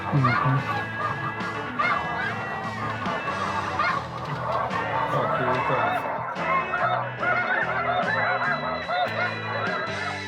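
A flock of snow geese honk continuously in flight over eastern Washington, a dense overlapping chorus of calls that stays loud and busy throughout.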